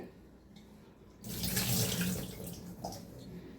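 Tamarind is rinsed under a running kitchen tap. Quiet room tone gives way to a sudden close gush of water splashing into a bowl or sink, which carries on and then slowly eases off.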